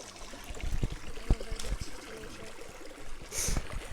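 A small stream on a hiking trail in Sedona trickles steadily over rocks at close range, a continuous watery wash with faint splashes and knocks scattered throughout.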